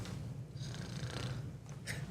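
A person imitates snoring with a few rasping, throaty snores in a quiet room, fairly faint and close.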